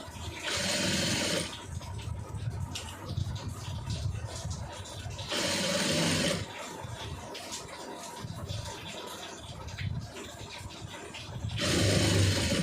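A sewing machine stitching piping along a garment neck piece, running in three loud whirring bursts separated by quieter pauses with faint handling noise.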